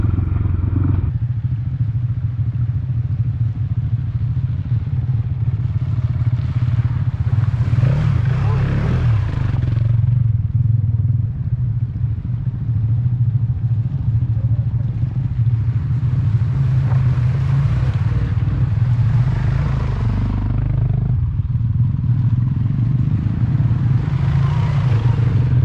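Loaded adventure-touring motorcycles carrying luggage and camping gear drone along steadily, with a constant low engine rumble, heavy wind buffeting and occasional rising passes from nearby bikes.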